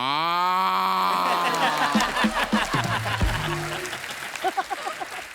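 A buffalo moos with a long, rising low call that opens the sound, followed by a jumble of other noises and possible voices in the background.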